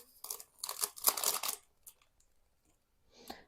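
A packet of vanilla sugar tears open in a few quick, crinkly paper rips, close up, followed by a pause and a last short rustle.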